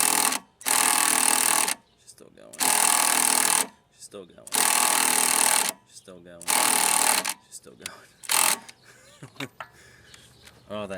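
A car jack is operated during repair work involving a water pump and motor mount, letting out four loud mechanical whirring bursts of about a second each, separated by pauses and followed by shorter, choppier bursts and clatter.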